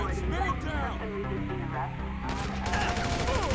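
Rapid gunfire in GTA V during a group fight crackles through bursts of shots, under raised shouting voices and mixed with other game effects.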